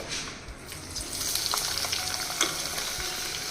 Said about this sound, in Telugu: ఇప్పుడు నూనె కాగింది ఇప్పుడు ఉల్లిపాయలు వేసేసుకుందామండి